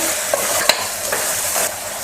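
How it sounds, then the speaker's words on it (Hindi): Scraping and stirring of chicken and ridge gourd in a pot over sizzling, with a few light clanks of a spoon against the metal, close and steady. "अब इसको हम अच्छे से मिक्स कर लेंगे"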